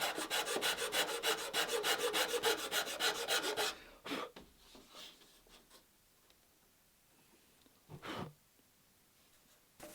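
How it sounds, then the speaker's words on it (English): A wood rasp works a wooden part for a Poulsbo boat being faired, with rapid rhythmic rasping strokes for about four seconds, then two short isolated scrapes after a quiet gap. "When I'm getting closer, I'll come in here the rasp and bring it down a little closer."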